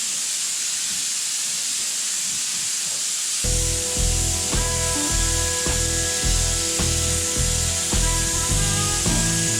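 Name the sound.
spraying a tack coat of paint on a hot rod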